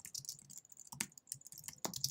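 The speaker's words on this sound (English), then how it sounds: "Thanks for typing your password" Quick, light keyboard typing with a few sharper key clicks, close and clear in a quiet room, with no voices.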